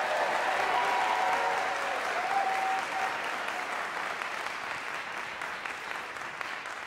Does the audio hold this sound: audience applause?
yes